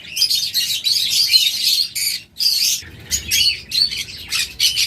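Caged pet birds at a bird sale, including doves, cockatiels and budgerigars, chirp and squawk densely in a busy chorus, bright rapid calls overlapping almost without pause, loud and close.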